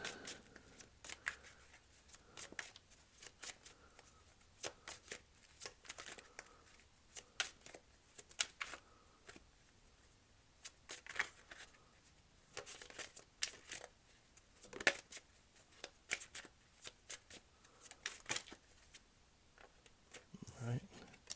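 Tarot cards being shuffled during a quiet reading: soft, quick riffles and papery flicks in scattered bursts, fairly faint and close, over near-silence.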